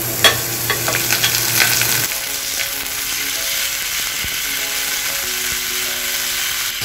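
Chopped onion and spinach sauté in a pan over a medium flame, a loud continuous sizzle with brisk stirring scrapes at first, then a steady hiss with faint tonal clinks, no voices.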